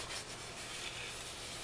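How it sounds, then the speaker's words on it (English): Paper album hinge rubbed with a burnishing tool, a faint close scratchy rubbing in quick short strokes for under two seconds. "now I'm going to burnish this one"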